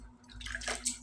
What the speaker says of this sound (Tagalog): kumuha lang tayo ng tubig mga idol at lagyan natin ng tubig ito mga idol